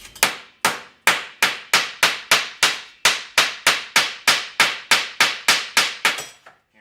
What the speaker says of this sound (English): hammer it back flat